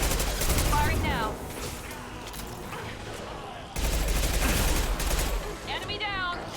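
Gunfire in the video game Mass Effect 2: loud, dense bursts of rapid shots in two main volleys with a short lull between, over a constant rumbling battle bed, with brief electronic whooshes.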